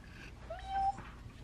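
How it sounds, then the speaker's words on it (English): A single short cat meow, fairly quiet and close, rising then holding briefly in an otherwise soft background. "Hi, Cookie. Meow."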